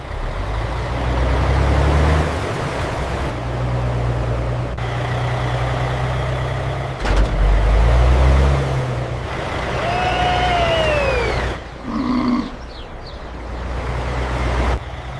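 Truck departing a facility gate, a loud close diesel engine idling and pulling away with rumbling low tones, a brief squeal and hiss of air brakes partway through.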